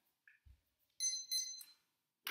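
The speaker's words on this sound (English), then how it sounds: "You could actually press the timer." Timer alarm going off during a restorative yoga session: a couple of faint chirps, then two bright electronic beeps close together, fairly quiet, followed by a short burst at the end.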